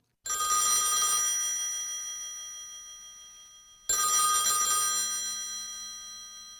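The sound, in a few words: telephone ringing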